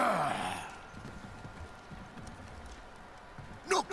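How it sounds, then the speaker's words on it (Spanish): Horse hooves clip-clopping in the God of War video game, a series of soft hoofbeats over a quiet ambient bed, with a louder burst and a brief whinny-like sound near the end. "¿Es un animal o qué, un caballo?"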